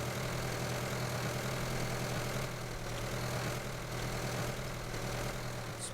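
Steady, low idling drone of a harvester engine in Farming Simulator 15, constant and unbroken throughout, fairly quiet, with no talking.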